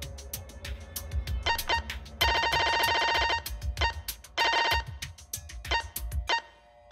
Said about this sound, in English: Cell phone.